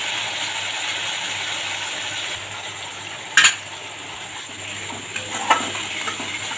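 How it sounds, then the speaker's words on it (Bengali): Rinse water from a bowl hits a pan of spiced yogurt curry frying for a potol dish, with a steady sizzle, a sharp clatter midway, then a softer bubbling hiss and a few light knocks. "বাটিটা ধুয়ে একটু জল দিয়ে দেবো।"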